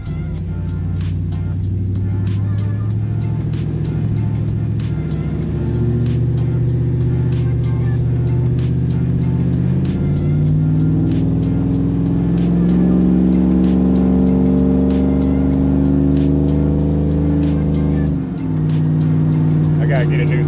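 A stock Chevrolet Silverado with an LQ4 6.0 V8 pulls hard on the road, a loud, close engine drone climbing steadily in pitch for most of the run before dropping off, with a squeal present and someone talking over it.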